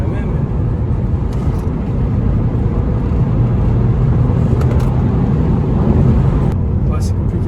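Peugeot RCZ engine pulling steadily through a corner as it accelerates, a loud continuous low drone heard from inside the car, with people talking over it.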